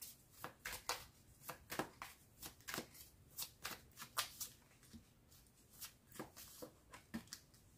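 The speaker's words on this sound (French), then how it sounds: "on va faire un tirage avec les tarots pour voir un petit peu l'état général de votre relation" Tarot cards are shuffled by hand in quick, crisp bursts, repeated riffles and slaps at an uneven rhythm, close and fairly quiet with no voices.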